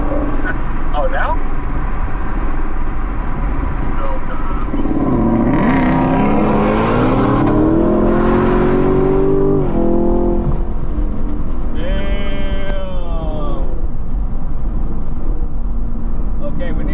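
A Ford Mustang GT500 and a Chevrolet Camaro rev and accelerate on a freeway, engine notes rising in loud sweeping pitch climbs, with people talking over the roar.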